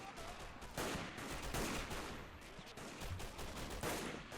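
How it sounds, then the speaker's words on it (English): Machine gun fire during a large World War II-style bridge battle in a war game, with dense overlapping bursts of automatic fire and distant booms forming a continuous loud roar of combat. "Look at this machine gunner."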